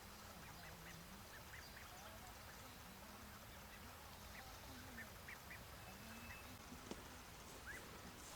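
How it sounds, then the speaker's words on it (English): Ducks quack over and over on a fishing lake, faint and somewhat distant, their calls scattered across a steady background hiss of outdoor ambience. "watching these little ducks"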